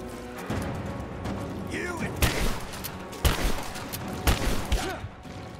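Shotgun blasts crack out in the game Rise of the Tomb Raider, several loud, punchy bursts spaced a second or so apart amid background combat noise and explosions.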